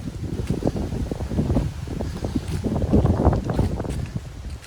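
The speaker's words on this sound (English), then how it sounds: "It's a really, really cold breeze." Cold gusty wind on the Appalachian Trail buffets the microphone in a steady, rough roar, swelling and easing with low rumbling bursts, with no voices.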